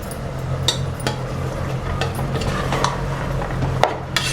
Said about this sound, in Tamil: இந்த மிளகாய் கரம் மசாலா நல்லா வதங்கட்டும்